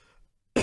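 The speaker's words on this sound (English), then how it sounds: "Don't cough. Makes it worse." A single sharp cough bursts out close to the mic after quiet breathing, from someone eating fiery hot nuts in a Death Nut heat challenge.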